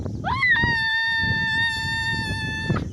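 A child gives a loud, sustained high-pitched shout on a hilltop at a temple, rising sharply and then holding steady for about two seconds, close and clear over faint background noise.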